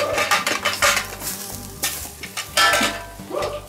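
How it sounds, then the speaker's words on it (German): Onions sautéing in a pan for Black Angus layered beef rolls, a steady sizzle with repeated stirring scrapes and utensil clinks against the pan, fairly close and continuous with no talking. "Zwiebeln glasig angedünstet."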